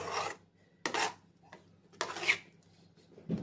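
A spoon scrapes and rasps around a pan of thick cashew katli mixture, in a few separate stirring strokes of about half a second each, close and fairly loud with quiet gaps between.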